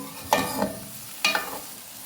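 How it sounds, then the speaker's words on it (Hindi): A spoon stirs potato, pea and carrot curry in a pot over medium-low flame, giving two scraping bursts about a second apart with a soft simmer underneath. Nobody speaks. "एक दफ़ा मैं इसको मिक्स कर दूँ।"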